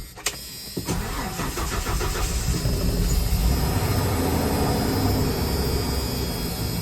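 A 1995 4.9L straight-six engine cranks and catches with a sharp start, then settles into a loud, steady idle.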